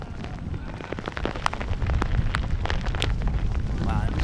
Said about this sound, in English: There you can see the rain coming down from that camera angle.